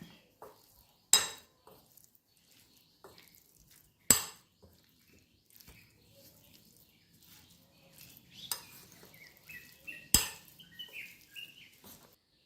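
A spoon stirs Kashmiri chili powder and other ingredients in a bowl, with a few sharp clinks against the side and softer scraping in between, close by and otherwise quiet.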